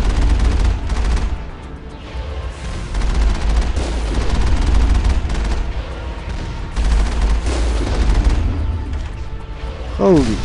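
Turret gunfire in the Mass Effect video game, dense rapid bursts of shots and booms continuing throughout, loud and close, with a voice briefly speaking over the battle.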